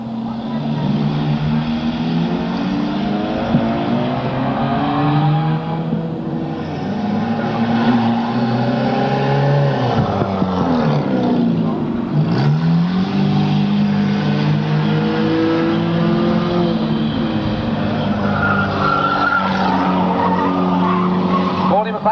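Race cars roar continuously around a track, engines rising and falling with passing pitch shifts and tire squeal, while an announcer talks over the constant din.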